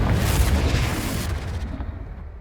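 A Confringo spell explosion in Hogwarts Legacy: a loud, close fiery boom that bursts at once and rumbles down into a fading tail over about two seconds, with no talk.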